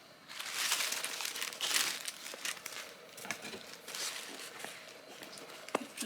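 Crinkly inner packaging is unwrapped and pulled from a new Coach Pillow Tabby 18 bag, giving a steady run of close, busy paper and plastic crumpling with soft tearing and rustling and a sharp crackle near the end.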